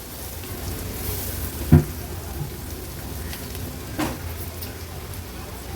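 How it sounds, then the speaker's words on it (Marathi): Turmeric and homemade Agri Koli masala sautéing in hot oil give a soft, steady sizzle close by, broken by a couple of light stirring taps. "हळद आणि मसाला तेलावर छान परतून घ्यायचा आहे।"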